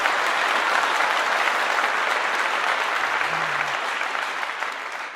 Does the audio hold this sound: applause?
yes